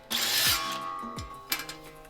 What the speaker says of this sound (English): we're gonna drill these holes out, bolt some stuff in it